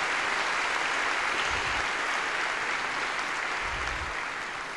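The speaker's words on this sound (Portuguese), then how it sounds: "Dê uma forte salva de palmas, amém?" Steady applause from a congregation in a church fills the room throughout, fairly distant, slowly fading toward the end, with no talking over it.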